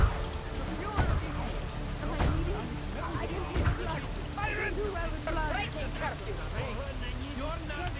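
Steady rain patters down in the Deus Ex: Mankind Divided video game, a dense continuous wash of drops heard under ongoing voices, with a few dull low thumps.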